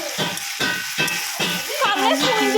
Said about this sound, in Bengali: সাদা তেল দিয়েছিলাম, দিয়ে সবকটা ভালো করে ভেজে নিয়ে